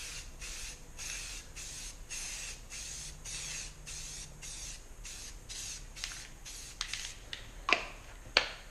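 Spray paint can misting blue paint onto a surface in a series of short hissing bursts, evenly spaced and close, ending with a couple of sharp clicks.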